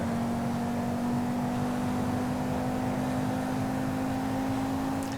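A steady car engine drone in the video game GTA 5 holds a constant pitch for the whole stretch, smooth and unbroken, like a car cruising at even revs rather than revving.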